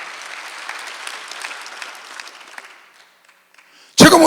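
Congregation applause during a Sunday church service, a dense steady clapping that fades out over about three seconds before a loud abrupt burst at the end.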